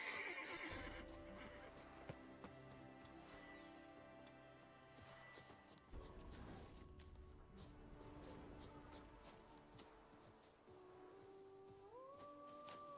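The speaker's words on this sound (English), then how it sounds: "Oh, horses." Horses neigh and whinny loudly in The Witcher 3 Blood and Wine, with hooves clip-clopping beneath a dense game soundtrack, plus a brief howl-like cry near the end.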